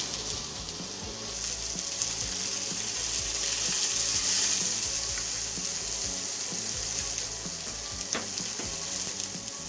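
Shallots hitting a hot pan of toasting seeds for Thai green curry paste, a loud, dense, continuous sizzle that swells midway, with a few clinks of stirring.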